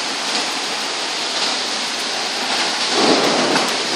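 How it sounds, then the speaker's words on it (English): Heavy rain pours steadily during a thunderstorm, a loud, dense hiss close by, with a deeper rumble of thunder swelling near the end. "Man, it started to rain hard."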